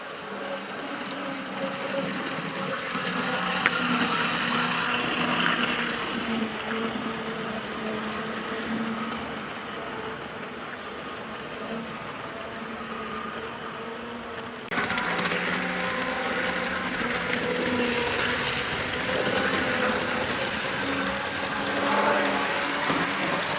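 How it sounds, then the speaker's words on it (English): Old TYCO model train engine on the Rocky Mountain Line, its tiny pancake motor in the front truck whirring continuously with a steady high buzz; the pitch shifts slightly partway through, with no talking. "These old TYCO engines have tiny pancake motors inside the front truck"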